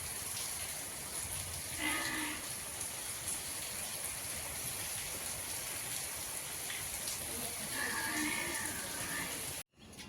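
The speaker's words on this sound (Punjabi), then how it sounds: "ਦੇਖੋ ਜੀ ਮੀਂਹ ਪਈ ਜਾਂਦਾ" Steady rain falls outdoors on a Punjabi farmstead under dark clouds, a constant dense hiss filling the whole stretch, with a couple of faint animal calls rising briefly in the background.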